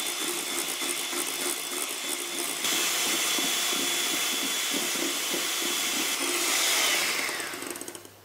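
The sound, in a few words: beating cream with icing sugar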